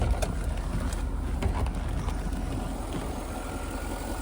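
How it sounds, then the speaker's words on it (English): A Lingenfelter-modified 2000 Chevrolet Corvette engine runs at a steady idle, a continuous low rumble that stays level and close throughout, with no voices. "I don't think we need that engine running anymore"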